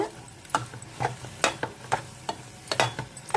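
Rava kesari with extra ghee gets stirred briskly in a pan: a rhythmic series of about a dozen close scraping strokes, roughly two per second, over a light sizzle.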